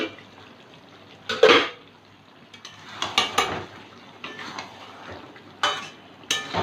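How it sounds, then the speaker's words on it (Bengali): A lid lifted off a pan of cooking okra, with sharp metallic clinks and knocks at close range, followed by a few lighter clatters and scrapes over a quiet kitchen background. "পাঁচ মিনিট পরে ঢাকনা তুলে নিচ্ছি"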